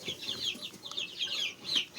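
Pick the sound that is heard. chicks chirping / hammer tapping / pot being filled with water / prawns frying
chicks chirping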